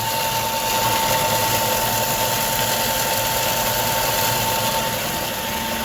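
A 50 kg feed mixer runs steadily and close by, a continuous motor drone with a whining hum and rattling vibration that holds even throughout, with no talk over it.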